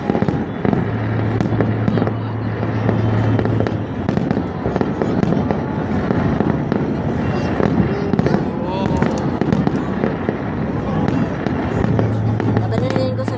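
Sinulog fireworks show with a dense, continuous barrage of loud bursts and crackling, people chatting underneath throughout.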